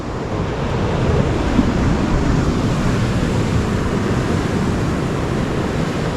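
Ocean waves wash onto a shore at high tide in a continuous, roaring wash mixed with heavy wind buffeting the microphone, loud and unbroken throughout, with no voices.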